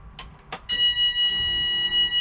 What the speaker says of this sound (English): I'm putting on the power and we'll get it fired up.